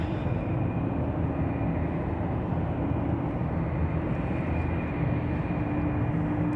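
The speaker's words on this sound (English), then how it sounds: "We have the ATR, look at that, making a right turn heading to the FedEx parking spot." ATR turboprop airplane taxiing at Anchorage's Ted Stevens International Airport, turning toward a cargo parking spot; a steady, broad engine rumble and drone continues throughout at moderate distance.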